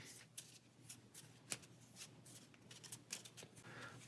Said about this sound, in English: So each suit has 9 cards, so we'll shuffle those up.